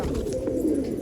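A kalpotiya pigeon gives a brief, close, low throaty coo, a single soft rolling call heard alone without talk.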